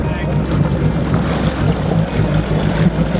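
A Sea-Doo GTI LE jet ski with a replaced engine idles high on the water, a steady low engine rumble under heavy wind buffeting and water noise.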